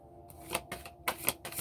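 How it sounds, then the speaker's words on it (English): Tarot cards shuffled by hand, a run of crisp papery riffles and flicks in several short bursts, close and fairly quiet, with no talking. "I'm going to shuffle right here."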